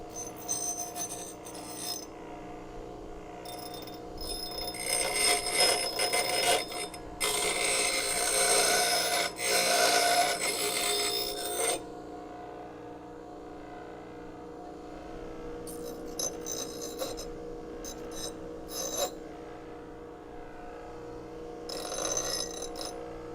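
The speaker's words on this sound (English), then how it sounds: "All right, wait for the bench grinder to get up to speed." A bench grinder hums steadily as it spins up, then grinds loudly against a hot metal frame-rail patch piece from a Crew Cab Charger for several seconds before easing back to a motor drone.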